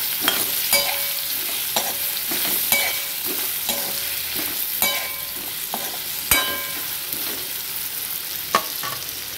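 Asafoetida and spices stirred in a pan over a low flame, a soft steady sizzle punctuated by regular, sharp clinks and scrapes of the spoon against the metal pan, close by with no voices.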